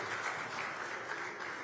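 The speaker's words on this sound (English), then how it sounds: "Another big round of applause" Dense applause fills the hall at a soccer awards ceremony, a brief burst of many hands clapping together, steady and somewhat distant.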